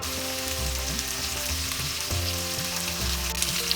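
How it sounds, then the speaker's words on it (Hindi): Pumpkin curry with slit green chilies sizzles steadily in a pan, a continuous close frying hiss with faint stirring scrapes throughout. "अभी और थोड़ा फ्राई करना है।"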